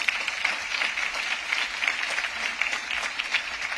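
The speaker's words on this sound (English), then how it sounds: "Can we get a big round of applause for these guys?" Steady, dense applause from a conference audience at a Bloomberg Green morning session, a bright continuous patter of many hands clapping at even loudness throughout, with no voices over it.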